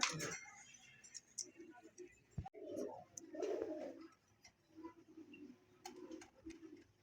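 Fancy pigeons in a loft cooing in low, repeated soft rolls, with a few clinks and rustles nearby and faint chirps in the background.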